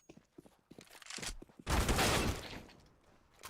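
Gunfire in an esports shooter video game: scattered shots and footsteps, then a loud sustained burst of rapid fire that fades out, with no talking.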